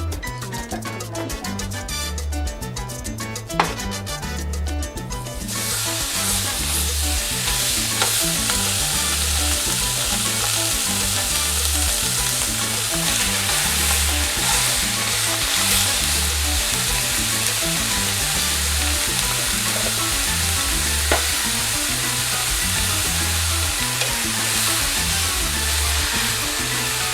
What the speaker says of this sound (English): I'm going to go ahead and get started and put the meat to cook